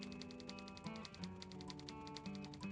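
Rapid, evenly paced typewriter-style keystrokes from the Thimbleweed Park adventure game, a steady run of clicks over a low, quiet background hum.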